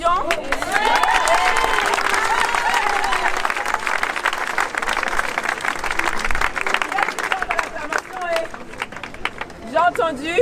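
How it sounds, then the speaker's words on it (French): Loud, sustained applause and cheering from a large crowd at an outdoor mass evangelism gathering at the Trocadéro in Paris, dense clapping with raised voices throughout, dipping slightly near the end before swelling again. "Il y a une puissance dans l'acclamation"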